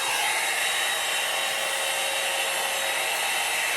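A hair dryer roars on high heat while styling hair, a loud, dense rush of air with a steady motor whine, held close and unbroken, with no talking.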